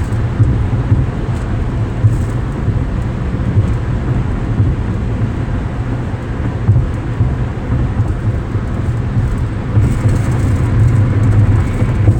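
Car cruising at 55 miles an hour, a continuous low road rumble and broadband tire and wind roar filling the cabin at constant loudness, no talk.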